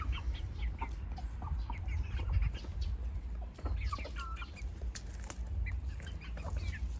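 Chickens cluck and call across a farmyard with scattered bird sounds over a steady low background rumble, continuous for several seconds at moderate distance.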